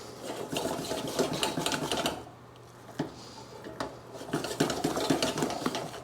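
Spatula scraping, lifting and stirring mashed potatoes in a pot, a busy run of clinks, scrapes and soft thuds close by, with a brief lull in the middle before the scraping picks up again.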